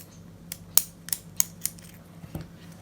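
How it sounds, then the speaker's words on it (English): Scissors snip through waxed thread cord while beading a chunky statement necklace, giving several sharp, close clicks spaced about a beat apart, with a softer thud near the end. "I'm gonna go ahead and snip this part of my cord, my waxed thread,"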